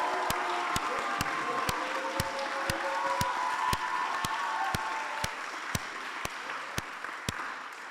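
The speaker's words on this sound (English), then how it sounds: "that's the biggest round of applause that we've had to date" A closing ceremony audience at the 2018 Mandela Washington Fellowship gives a long, sustained round of applause, dense steady clapping filling the hall with occasional sharper claps standing out near the front.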